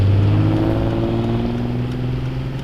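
A car engine at an outdoor car show idles loud and close with a deep, steady rumble that sags slightly in pitch, heard alone with no talk over it.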